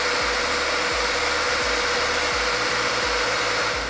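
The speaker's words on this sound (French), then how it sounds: "on peut encore entendre le ventilo se déclencher si on le sollicite un petit peu" Engine cooling fan on a Ducati Multistrada V4 whirs steadily, a loud, even rushing hum with a rhythmic low pulsing of the idling V4 engine underneath, constant from start to finish.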